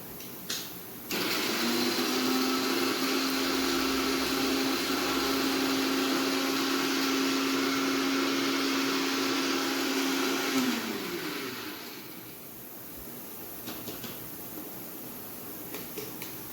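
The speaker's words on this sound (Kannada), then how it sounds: "ಆ ಚಿಕ್ಕ ಮಿಕ್ಸಿ ಜಾರಲ್ಲಿ ಕಡಲೆನ ಪೌಡ್ರ್ ಮಾಡೋಷ್ಟೊತ್ತಿಗೆ ತುಂಬಾ ಟೈಮ್ ತೊಗೊಳೋದು" A small mixer grinder jar powdering chickpeas (kadale) whirs loudly at a steady pitch for about ten seconds, then winds down and stops, leaving a quieter room with faint clicks.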